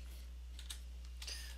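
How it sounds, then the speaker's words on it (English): Keystrokes on a computer keyboard during drafting work in Revit, coming as a few faint, scattered clicks over a low electrical hum with no talking. "So I'm typing TR for trim."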